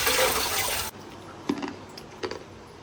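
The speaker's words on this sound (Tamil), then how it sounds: "இலை முழுசா கழுவணும்" A karpooravalli leaf is washed in water at home, first a loud rushing splash of running water that cuts off, then a few soft drips and small splashes close by.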